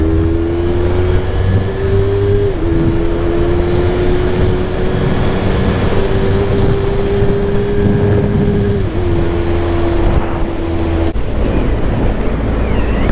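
A Yamaha R3 motorcycle accelerates in fifth gear, its engine drone rising gradually with brief dips at the shifts, heard from the rider's position under heavy rushing wind noise.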